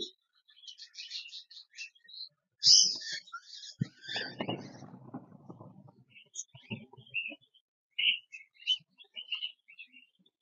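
Cockatiel chicks about three months old give faint, scattered high chirps in short bursts, with a person talking nearby.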